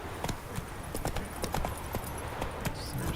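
In The Witcher 3 game, Geralt's horse Roach trots along with a brisk, steady clip-clop of hooves, each beat sharp and close, continuing throughout.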